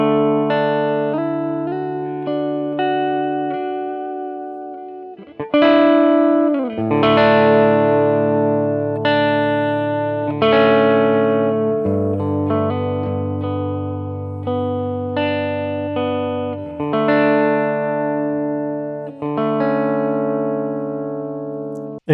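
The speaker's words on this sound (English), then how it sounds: "Anytime you go to the neck pickup on a Princeton Reverb, it just sings so good." An electric guitar on its neck pickup plays through a Princeton Reverb amp capture, ringing sustained chords and notes with a warm, singing tone and reverb tails, alone and fairly loud, each strum decaying before the next.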